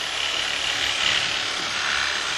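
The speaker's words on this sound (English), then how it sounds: "And when I reach the profile, I'll start turning the jigsaw." A jigsaw cutting along the bottom of a wooden molding, its blade giving a steady, continuous buzzing rasp with no break across the whole stretch.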